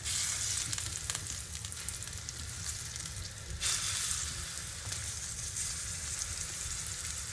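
Blackened pork loin sears in a hot pan, giving a loud continuous sizzle that flares brighter as the pieces are flipped partway through, then keeps hissing steadily up close without speech.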